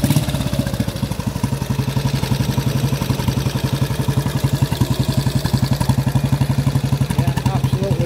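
A 1954 AJS 16 MS single-cylinder motorcycle runs steadily just after a first-kick start, its loud, even thumping exhaust beats close by with a mechanical clatter and no talking.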